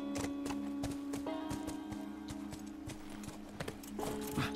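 Horse hooves clip-clop in an even gait in The Last of Us video game, crisp close taps repeating under held music tones at low volume, with no voices.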